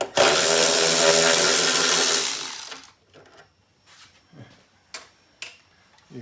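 A power tool runs steadily for nearly three seconds, removing wiper bolts on a 2004-06 Scion xB, then stops, leaving faint clicks and light handling sounds of the loosened parts.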